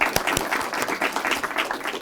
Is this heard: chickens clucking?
no